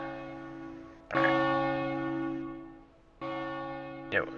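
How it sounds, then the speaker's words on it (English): A large bell in Stormwind city from World of Warcraft tolls six o'clock; two deep, ringing strikes sound about two seconds apart, each sustaining a long resonant decay, with a third strike starting at the end. "Stormwind at 6 o'clock."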